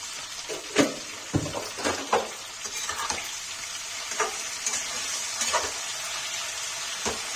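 Parwal and potato sizzle and fry in a pan as a spoon stirs them, with scraping strokes at irregular intervals over a steady hiss, close and moderately loud.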